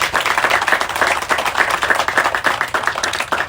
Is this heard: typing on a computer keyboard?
no